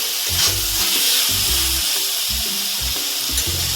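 Fried eggplant is stirred into a spice masala in a pan, giving a continuous close sizzle with rhythmic low thumps from the stirring spoon.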